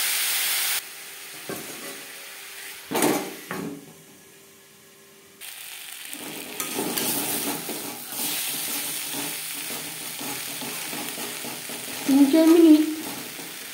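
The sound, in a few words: papaya frying and being stirred in a pan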